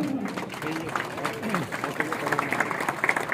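Scattered, fairly thin clapping from an outdoor crowd at a Republic Day police parade on the Aligarh police parade ground, running steadily throughout while a voice talks over it.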